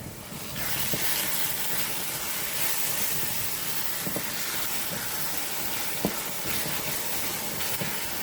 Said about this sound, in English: Put my 2 Maggi cubes in there, and then I'm going to stir it.